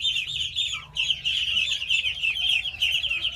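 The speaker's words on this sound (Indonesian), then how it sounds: "Wah, ini anak itik nih. Banyak sekali itiknya." A large crowd of ducklings on a duck farm peeps nonstop in shrill, overlapping chirps, close and loud.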